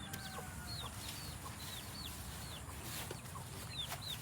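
A hen clucking near her chicks, with a run of repeated high, thin peeps at a quick, even pace over low, quiet background rumble.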